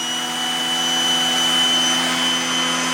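A Shark Navigator Lift-Away vacuum cleaner runs with a loud, steady whine and airy roar while its suction is adjusted by twisting, the drone holding nearly constant, close and alone.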